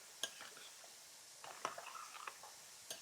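Spoon stirring crème fraîche with lemon juice for a caviar dish, faint soft scraping and a few light clinks in short bursts, close and quiet.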